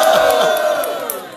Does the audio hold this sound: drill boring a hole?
no